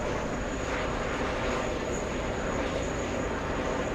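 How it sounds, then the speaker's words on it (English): An Airbus A380's auxiliary power unit runs at JFK airport, a steady broad hum and whine holding evenly throughout at moderate, fairly close level, with a faint high tone above it and no clear voices. "The APU now sounding quiet on that A380."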